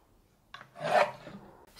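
A single short rasping stroke of a hand saw biting into wood, close and fairly quiet, with a faint scrape before it.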